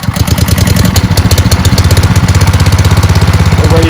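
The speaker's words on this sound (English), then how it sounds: "You should probably let the engine run a little bit" A brand-new Honda engine on a Keene fire-fighting pump runs at about quarter throttle with the choke off, a loud, close, rapid and even putter that continues steadily without any talk.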